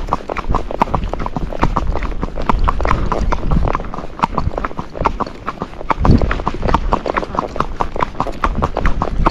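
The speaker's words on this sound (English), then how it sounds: "You can go up and down a road, practice your gaits. You can hear the footfall." A Tennessee Walking Horse moving in gait along a paved road, its hooves striking in a quick, even clip-clop rhythm, close and clear throughout with no other sound competing.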